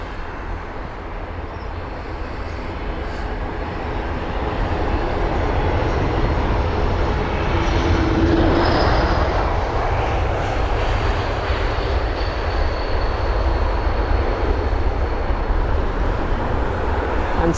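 Embraer E195-E2 jet landing, its engines giving a steady, fairly loud roar that swells and holds through most of the pass, with a faint, brief growling tone heard distantly in the middle; no voices.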